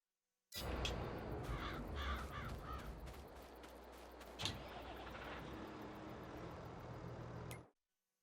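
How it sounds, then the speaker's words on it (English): Crow-like bird cawing repeatedly in the background during a farming game session, sharp calls recurring over a steady engine-like drone of farm machinery, fairly faint and without talk. "The bird in the background is going nuts."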